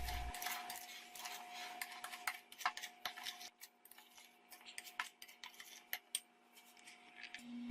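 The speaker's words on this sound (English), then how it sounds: "With a spoon, stir these ingredients together, pressing on the sugar lumps to eliminate them" A spoon scrapes and clinks in a small bowl of sugar, salt and spices for pumpkin pie, a quick irregular run of close metallic taps and grinding strokes, quiet and alone.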